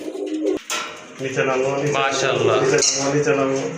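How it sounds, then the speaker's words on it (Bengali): Pigeons, including a female bird in a pigeon collection kept for sale, coo steadily and close by in rolling, throaty calls, with people talking over them. "এটা কিন্তু আপনার মাদি কবুতর"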